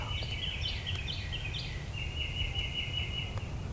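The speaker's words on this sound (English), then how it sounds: "There's a bunch of turkeys all along this edge." Wild turkeys gobble at a distance along a field edge on Kansas public land in a rising, rattling run of calls, over a steady low rumble of background noise.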